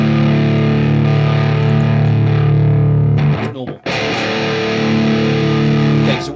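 Heavy metal electric guitar with a thick, distorted tone holds ringing chords, breaks off briefly with a choppy scrape partway through, then resumes loud and sustained.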